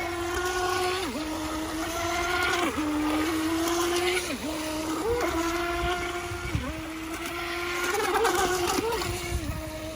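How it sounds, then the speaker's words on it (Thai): A small remote-control mini boat's electric motor runs steadily on water, a loud close whine that dips and surges in pitch repeatedly as it speeds and turns. "ความเร็วกำลังดีนะครับสำหรับเรือรุ่นนี้"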